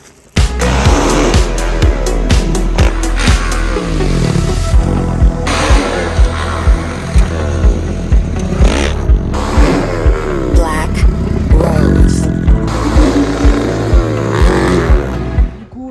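A new 450 dirt bike being run in during riding in Spain, its engine loud and close, revving up and down repeatedly in rising and falling surges with brief throttle-offs between pulls, no talk over it.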